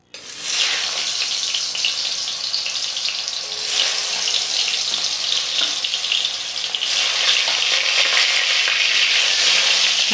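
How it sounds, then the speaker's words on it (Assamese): Potato pieces fry in hot oil over a medium flame, giving a steady, bright sizzling hiss that swells in intensity partway through and continues close and loud without talk. "আলুখিনি একেবাৰে ৰঙা হ'ব লাগিব, ৰংচোৱা হোৱালৈকে মই ভাজি থাকিম।"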